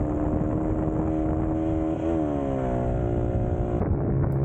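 A 125 XLS motorcycle engine drones steadily while riding through the Merzouga desert, a loud continuous hum with a slight rev midway and wind noise, no voices.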